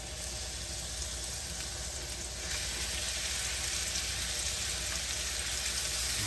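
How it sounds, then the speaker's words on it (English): Shrimp sear in a hot pan with butter, giving a faint, even frying hiss that rises slightly partway through, with no talk. "Just kind of get each shrimp in contact with the pan."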